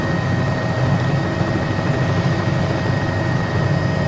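A Cowan 206 helicopter in a flight simulator, flown without rudder input, gives a steady, loud rotor and turbine drone with a low, continuous thrum and no pauses, heard on its own with no talking.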